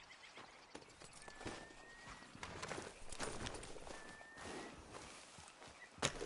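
Horse hooves clip-clop at a steady walking pace in Red Dead Redemption 2, with a brief whinny-like tone in between, continuous and fairly close throughout.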